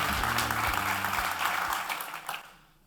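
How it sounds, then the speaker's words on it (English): Audience clapping at a tech talk, moderately loud and fairly even for about two seconds before fading away, with some low rumble underneath. "Give him a big round of applause"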